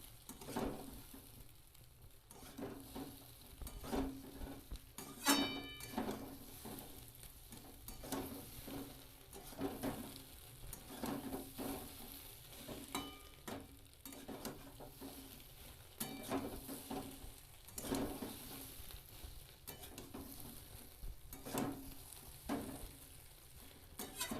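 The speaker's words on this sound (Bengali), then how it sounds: "মানে একটু ভালো করে লাল লাল করে ভেজে নিতে হবে" Bread slices fry in a pan until golden red for a tiffin snack, a soft, uneven sizzle with frequent faint clicks and scrapes from turning the slices nearby.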